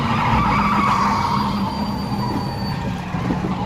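A vehicle in the PUBG video game brakes and skids, making a loud, continuous grinding screech with a thin, high squeal running through it for several seconds. No talk is heard over it.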